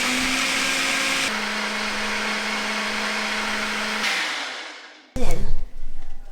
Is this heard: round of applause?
no